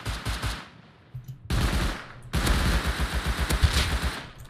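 Close, loud bursts of SMG fire in the survival game Rust, rapid rattling volleys broken by two short pauses and then a longer sustained stream of shots.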